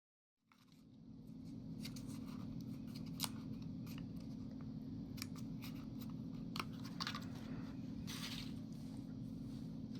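Steady snipping of scissors through paper, a continuous busy cutting rhythm with sharp clicks of the blades, close and fairly loud.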